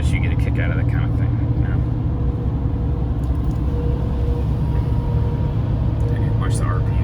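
Duramax LML diesel pickup descending a mountain grade with the exhaust brake engaged at about 1500 rpm: a steady, heavy low drone and rumble holds throughout, with someone talking over it.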